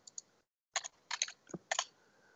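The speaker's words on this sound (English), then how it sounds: "if I can type it right" Someone types on a computer keyboard in short, quiet clusters of clicking keystrokes, with brief pauses between bursts and no talk.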